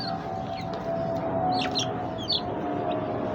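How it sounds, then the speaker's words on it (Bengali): Columbian Brahma chicks, a fancy foreign chicken breed, give several short high peeping chirps over a steady background hum and hiss, with faint low clucking tones underneath. "এটা হলো বিদেশি জাতের ফেন্সি মুরগি আমরা এটাকে ব্রাহ্মা নামে চিনি কলম্বিয়ান ব্রাহ্মা দুইটাই বাচ্চা"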